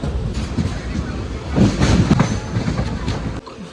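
A train pulls out of Kanthi station, rumbling and clattering loudly and close with rolling wheel noise throughout.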